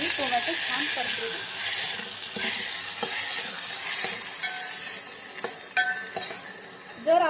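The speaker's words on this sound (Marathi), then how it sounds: "कांद्याला लाल कलर आल्याच्या नंतर आपण त्यात टोमॅटो टाकू आणि टोमॅटो छान परतवू" Onion and tomato sizzle and fry in a pan for hotel-style South Indian sambar, with a steady hiss broken by stirring scrapes and clinks of a spoon against the pan, close and fairly loud.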